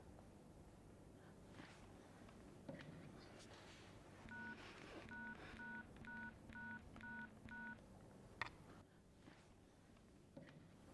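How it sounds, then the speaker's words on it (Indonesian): Telephone keypad dialing tones in a home, a quick run of about seven short beeps in a steady rhythm, heard fairly clearly over a low room background with faint movement. "Atau lo mau gue coba telepon ke kantor ya?"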